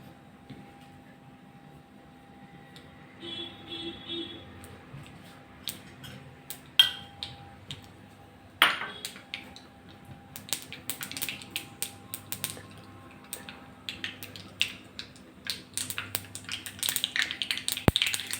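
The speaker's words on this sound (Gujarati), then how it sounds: "રાઈ સરસ તતરી ગઈ છે" Mustard seeds splutter in hot oil for a gunda sambharo tempering. Quiet at first, then scattered sharp pops and crackles grow denser and louder toward the end over a faint steady hum.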